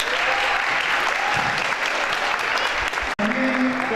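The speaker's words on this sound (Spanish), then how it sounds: "Un aplauso, por favor." Audience applause at a local sports event in Achao, Chile, a dense sustained clapping that cuts off abruptly near the end as a voice begins.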